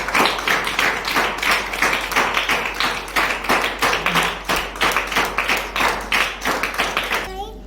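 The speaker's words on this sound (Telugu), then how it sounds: "చప్పట్లు కొట్టండి అందరూ." Sunday school children clap their hands together in a loud, close burst of rhythmic claps, repeated at a steady beat for several seconds.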